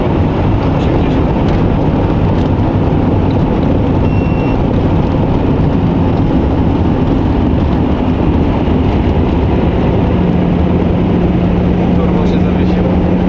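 A car engine with a stuck turbo roars at Bonneville Salt Flats, a loud, constant broadband drone with a steady low hum that holds for the whole stretch without a break.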